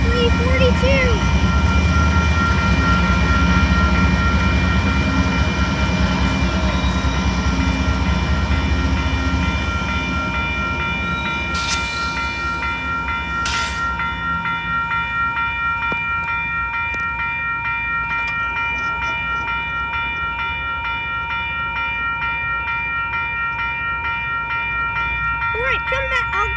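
Union Pacific locomotive 7342 rumbling past close by, its multi-tone horn blaring loudly and sustained over heavy rail noise, with the horn fading partway through as the train continues rolling.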